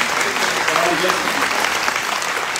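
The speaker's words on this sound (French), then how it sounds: "Je crois qu'on peut l'applaudir" An audience at a band's centenary concert applauds, giving sustained, even clapping with a voice faintly audible underneath.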